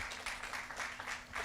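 A gathering during International Human Rights Week claps for itself in a short, quiet burst of scattered hand claps heard from a distance.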